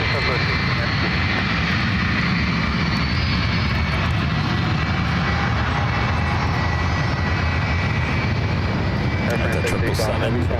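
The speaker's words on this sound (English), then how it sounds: "At the 777, heading to Paris, now rolling down. 28 right." A Boeing 777 bound for Paris takes off on runway 28 right at SFO, its jet engines a loud, continuous broadband roar filling the whole stretch, with voices talking over it.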